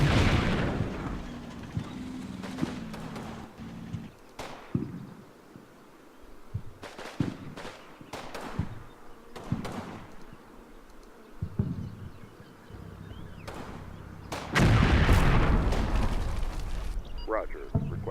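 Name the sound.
artillery fire in video game Combat Mission Final Blitzkrieg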